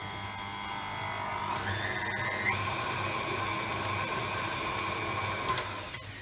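Electric food mixer whizzing mini egg blondie mixture, a steady close motor whine that rises in pitch partway through and holds before winding down near the end.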